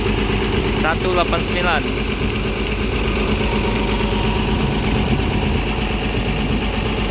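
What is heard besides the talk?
bus engines idling at a terminal during vehicle checks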